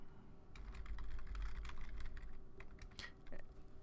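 Rapid, steady typing on a computer keyboard as a custom item title is entered, with close, dense key clicks running throughout and no talking.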